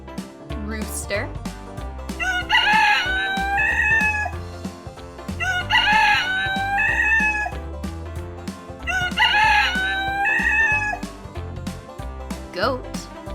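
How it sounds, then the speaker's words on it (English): A rooster crows three times in a row, each cock-a-doodle-doo long and bright, ringing loud and close above a playful music bed. "Rooster."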